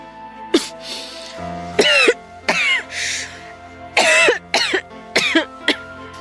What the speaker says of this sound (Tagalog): napapansin ko parang ilang araw na yung ubo mo ah